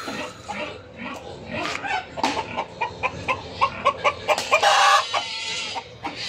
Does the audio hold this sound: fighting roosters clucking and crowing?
yes